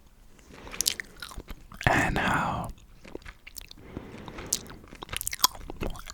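Close-miked gum chewing with wet, sticky smacks and soft bites in a steady, intimate rhythm, interrupted by a brief louder rustle, while a voice whispers quietly throughout.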